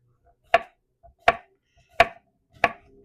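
A knife chops food on a cutting board in a kitchen with boiling vinegar nearby: four crisp, evenly spaced chops, close and distinct against near silence.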